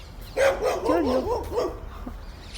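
A dog barks and yelps repeatedly in a quick burst, fairly close, at a house with mango trees, while a person says a few words over it.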